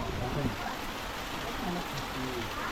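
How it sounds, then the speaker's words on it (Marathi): Heavy rain pours down in a dense, constant hiss and patter, with a voice speaking faintly beneath it. "पाऊस जाम जोरात आहे"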